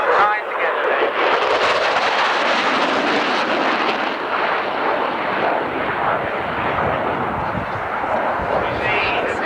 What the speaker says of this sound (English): coming through, I think, on a slow flyby